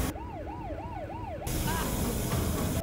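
An ambulance siren wails in a rising and falling yelp with four even sweeps, loud and close, then switches to a different noisier tone with a brief higher whoop over a busy background rumble.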